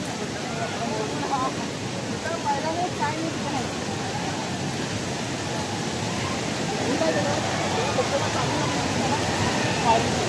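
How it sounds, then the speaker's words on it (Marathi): Dukkarkada waterfall at Nitwade, a steady broad rush of falling water heard at constant loudness throughout, with voices faintly in the mix. "शेवटचा स्पॉट डुक्करकडा धबधबा"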